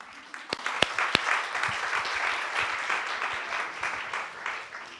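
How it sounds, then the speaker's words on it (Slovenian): An audience applauds a young actress from a children's film crew: steady, moderately loud crowd clapping with a few sharp louder claps near the start and a faint hum of voices underneath. "tako da super, en aplavz."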